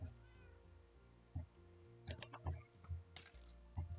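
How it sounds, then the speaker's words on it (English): A cat meows a few times in short, fairly faint calls, mixed with light clicking like keyboard typing and a low steady hum in the background; no one speaks. "New kitties. Kitty cats."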